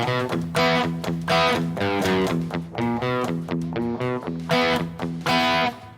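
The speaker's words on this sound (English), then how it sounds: "This is a crunch preset where I'm basically using just the profile with less gain, without the tube screamer distortion." Electric guitar played through a Kemper amp profile taken from an AxeFx, set to a lower-gain crunch tone with no tube screamer in front. Loud, sustained chords with rhythmic strummed attacks ring out clearly with no voice over them.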